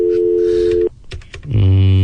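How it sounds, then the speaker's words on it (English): A telephone call plays a loud steady electronic tone that cuts off, followed by a few clicks and another low sustained tone on the line. "what if Pasty answers this phone right now"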